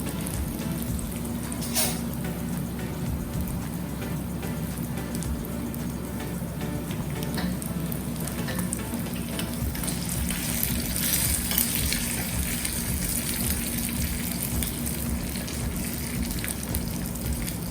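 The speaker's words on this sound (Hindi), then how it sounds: "अच्छे से उसको छौंक होने दीजिए, काजू भी थोड़ा पक जाने दीजिए।" Steady crackling sizzle of cashews and spices tempering in hot oil, continuous and close, with occasional stirring scrapes and no voices.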